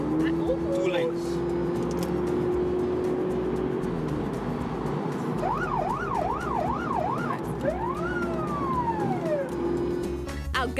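A Cape Town police ghost squad car sounds its siren to pull a driver over, a rising wail giving way to rapid yelping sweeps and a long whoop, loud over steady road and engine noise inside the car.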